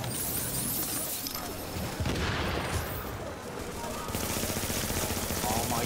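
Rapid NPC gunfire in a shooter video game, dense bursts of shots crackling continuously and loudly throughout, with a player's voice underneath.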